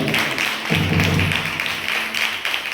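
A church congregation clapping in praise, a steady broad wash of many hands with rhythmic swells, fairly loud and close, carrying on throughout.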